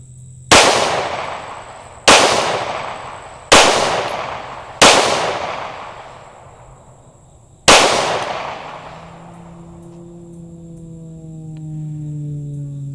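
Five loud gunshots from an Echelon 4.0C Comp pistol, four in quick succession and a fifth after a pause, each sharp crack trailing into a ringing decay, followed by faint ringing tones.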